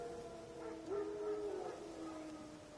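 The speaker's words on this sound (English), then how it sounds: "Wild dogs." Wild dogs in the video game Witcher 3 give faint, distant wavering howls and whines over a quiet game background, several overlapping cries that rise and fall.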